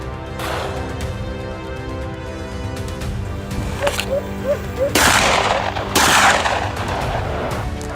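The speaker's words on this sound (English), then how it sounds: "His rifle cracked the air just as a massive boar burst from a thicket." Rifle shots fired during a wild boar hunt in Arkansas woods, heard as several sharp cracks and heavier booms over steady outdoor noise, the loudest blasts near the end with no talk.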